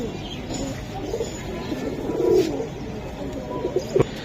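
Silver Giribaz pigeons coo at close range, soft throaty calls rising in the middle and again near the end over faint background chatter.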